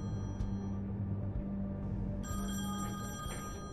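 A telephone rings in The Wolf Among Us video game, a steady electronic bell pattern repeating at moderate volume over a low background hum, with no one speaking.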